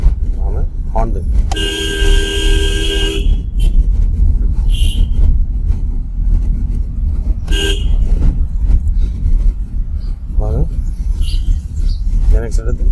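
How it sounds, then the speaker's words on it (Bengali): A car horn sounds during a driving lesson, one long steady blast followed by shorter toots, loud and close inside a running vehicle over engine rumble, with people talking. "আমি হর্ন দেন"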